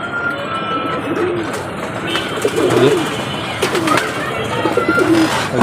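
Pigeons coo in low, repeated throaty phrases over a busy background of fluttering and shuffling, fairly close; the pigeons have an upset stomach.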